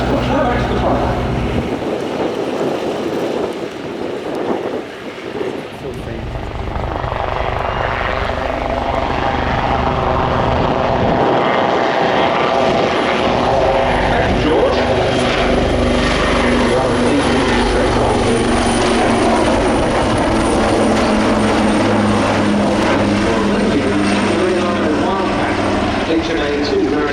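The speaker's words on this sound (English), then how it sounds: "We'd like to present the 2024 Royal Navy Helicopter Display Team, the Black Hats." Royal Navy Helicopter Display Team, the Black Hats, performing at the Royal International Air Tattoo air show, a loud rotor and engine roar building and sustained as the helicopters pass, with an announcer talking over it.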